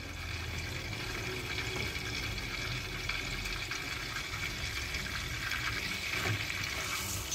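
Butter melted in a pan with chili flakes and dried mint, for a Turkish yogurt manti soup, sizzles in a steady, even hiss throughout, with no one speaking.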